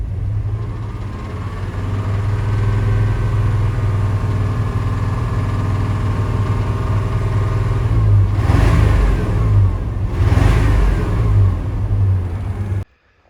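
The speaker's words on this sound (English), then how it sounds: "You can hear it still in there making a little bit of noise. It's making the backfiring going on." A GMC truck's throttle-body-injection engine runs steadily and loudly up close, with a deep continuous drone and two brief rougher surges near the end before it cuts off abruptly, with no talking.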